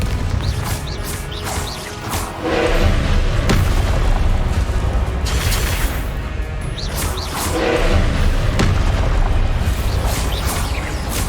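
Confringo blast spells in Hogwarts Legacy combat set off repeated booming explosions and crashing impacts over dense game music and effects, loud and continuous.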